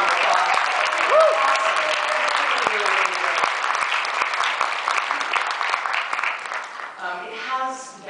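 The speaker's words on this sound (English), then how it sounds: "So give them a huge round of applause." An audience in a cinema applauds at a film noir festival screening, a dense sustained clapping that fills the room and tapers off toward the end as a voice starts speaking.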